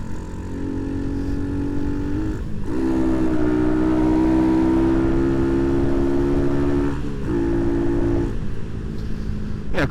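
A modified Honda C90 motorcycle with a 170cc engine runs loud and close on a test run, holding a steady drone that dips briefly near three and seven seconds before the revs climb again.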